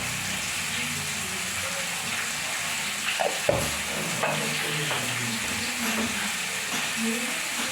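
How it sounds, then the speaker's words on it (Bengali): Cauliflower fries in a pan with a steady, close sizzle and occasional light clinks of stirring throughout. "এদিকে ভাজা হয়ে গেছে ফুলকপি ভাজছে"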